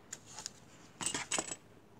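Scissors snip through paper for small craft envelopes, a few quiet, crisp cuts: a couple of isolated clicks, then a tight cluster of snips about a second later, close and alone.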